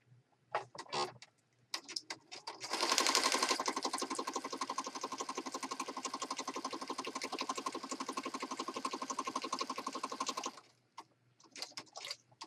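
A sewing machine stitches napkin lace onto a large journal page, running in a steady rapid rattle for about eight seconds, bracketed by brief clicks and handling noises before and after.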